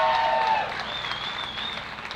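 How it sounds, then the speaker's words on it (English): A church audience at a victory gathering in Gig Harbor claps in a round of applause that starts strong and then thins and fades. "Let's give them a round of applause."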